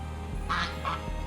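Two quick, nasal duck quacks close by over a low steady hum.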